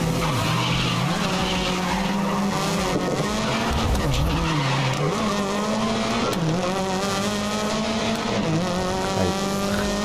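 A race car in the video game Grid 2019 skids and spins out, with loud continuous engine whine and screeching tires that rise and fall over ten seconds.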